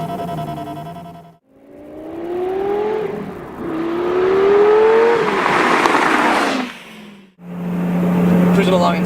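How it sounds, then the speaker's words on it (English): Lamborghini Gallardo with e-Gear cruising in sixth gear, its exhaust giving a steady droning tone with rising and falling pitch sweeps, briefly dipping twice, close and fairly loud with some speech-like sound mixed in. "Cruising along in 6th gear is, you can still hear the exhaust"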